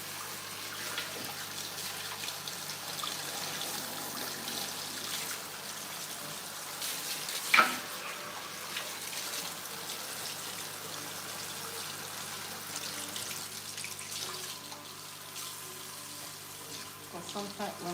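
Tap water running steadily while hair is rinsed, a continuous hiss and splash throughout, broken once by a brief sharp knock; a voice speaks faintly beneath it.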